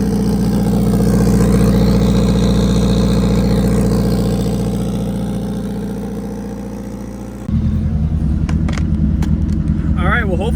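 A turbocharged K20-swapped Honda Civic engine drones with a strong, steady harmonic hum while cruising on the highway. The hum eases slightly, then turns into a rougher, choppier engine note as the drive continues.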